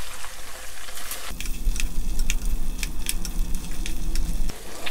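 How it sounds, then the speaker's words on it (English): Beef sizzling in a frying pan of oil with scattered pops and crackles, fairly close, a continuous frying sound with irregular spatters. "So we'll let our beef fry until it's nice and crispy."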